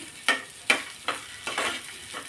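Chopped onion sautéing in a pan for dhaba-style butter chicken masala, with a soft steady sizzle broken by four or five sharp scraping stirs of a spatula spaced about half a second apart.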